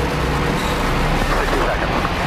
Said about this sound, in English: Struggling to escape gravity's grasp, the rocket motor wails.